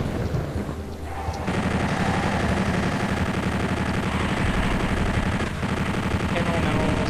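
In Doom 64, a chain gun fires long, continuous bursts, loud and dense, with the game's sound under it and a brief lull early on.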